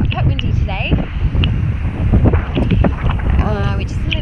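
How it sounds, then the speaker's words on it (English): Gusty wind buffets the microphone on a fine-sand island beach, a constant rumbling roar with a person talking over it. "It's quite windy today."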